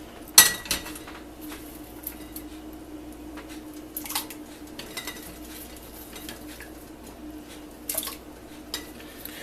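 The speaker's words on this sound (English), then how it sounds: "And now I'm going to add the potatoes." Potatoes going into a pot of spinach chickpea soup with kale, celery and sweet peppers: scattered clinks and knocks of utensil against pot over a low simmering hiss, one sharp clatter near the start.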